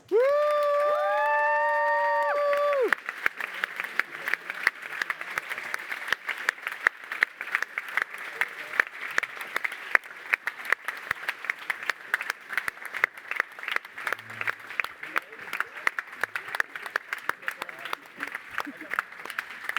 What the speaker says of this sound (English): please give a really, really, really roaring applause to all the speakers of the conference